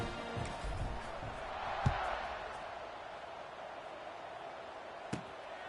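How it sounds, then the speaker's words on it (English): Stadium crowd noise from the NCAA 26 college football video game: a steady, diffuse roar of murmuring fans that holds throughout, broken by a couple of sharp thuds. "this crowd is buzzing after that last score"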